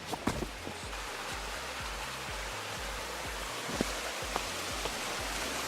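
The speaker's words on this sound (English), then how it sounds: "So here we are, on top of the waterfall." Rushing water at the top of a waterfall in Hanging Rock State Park, North Carolina, a steady broadband hiss with a few faint knocks and footsteps over it.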